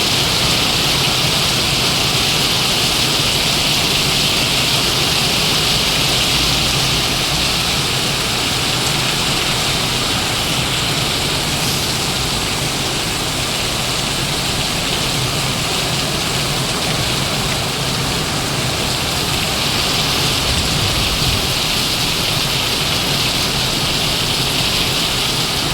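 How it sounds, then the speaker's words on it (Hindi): Heavy rain pours down in a dense, steady hiss that stays loud and unbroken throughout, with no voices heard. "इतना भारी बारिश हो रहा है,"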